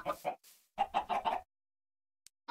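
Chickens clucking in a video game, a burst of several quick clucks followed by a second rapid run of four or five, then near silence with a faint blip at the end.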